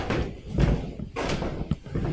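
A large door on a building at a rural off-grid property in California is opened, producing a few close, heavy thumps and rattling bursts spread over about two seconds.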